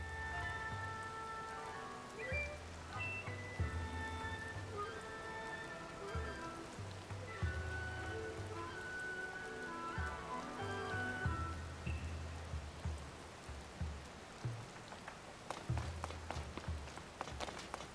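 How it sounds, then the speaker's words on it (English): Steady rain falls in the video game The Legend of Zelda: Tears of the Kingdom, a soft continuous patter under game music, with footsteps and movement sounds near the end. "Is it 3 p.m. that rain's gonna stop?"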